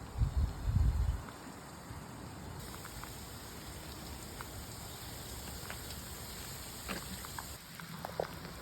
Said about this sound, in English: It's raining right now